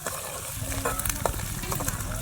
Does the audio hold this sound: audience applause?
no